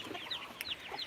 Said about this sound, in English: My little chickies are hungry.